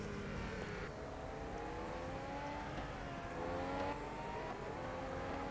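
A 6-litre V12 Ferrari Enzo with 660 hp races in Real Racing 3 on iPad. Its engine note climbs in pitch through several gear changes, staying fairly quiet and continuous with no voices.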